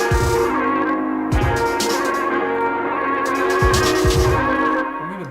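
A trap/RnB drum beat built in FL Studio and slowed to about half tempo plays as a continuous dense loop, with deep booming kick hits and bright snares and hats over a sustained melodic layer, no voices.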